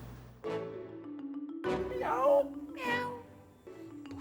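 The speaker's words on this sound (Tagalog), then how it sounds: "Pusa lang pala." A cat meows several times, drawn-out and wavering, fairly close and clear over a quiet background with a faint low hum.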